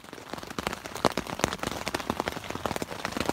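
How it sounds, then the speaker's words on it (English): Heavy rain drums on a campsite in a dense, continuous patter of close, sharp drops with no voices. "It's been raining non-stop."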